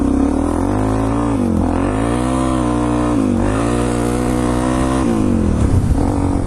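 A motorcycle being ridden and shifted through its gears, the engine note rising steadily then dropping at each change several times, a loud close droning roar with no voices.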